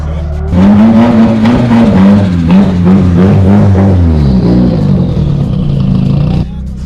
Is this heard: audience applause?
no